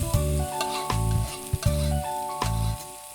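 Thin-skinned peppers stir-fried hard in hot chili oil in a wok, with repeated scraping tosses and a dense, loud sizzle, plus a sustained tonal hum running beneath, close and without talking.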